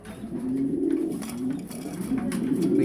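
A breeding pigeon cooing close by in a low, rolling series of soft coos that repeat steadily with no talk.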